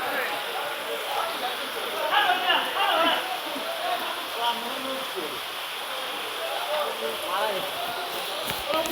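Steady rain patters on a surface at a vegetable market, with a busy crowd of buyers and sellers talking throughout in the background.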